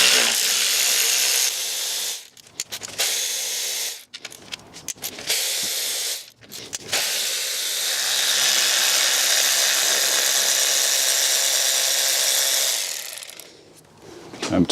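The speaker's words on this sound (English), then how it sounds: "I'm just going to start removing all of the bolts." Power tool work on the 10 mm bolts of a BMW M57 diesel engine's EGR valve, loud bursts of whirring and ratcheting broken by short pauses, close up with no talking.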